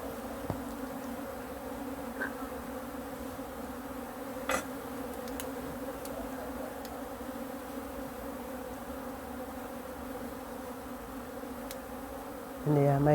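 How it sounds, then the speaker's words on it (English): Honey bees buzzing steadily during a beehive inspection, a faint continuous hum with a few brief knocks and clicks, and a louder bump near the end. "my bees today were not really happy to be disturbed"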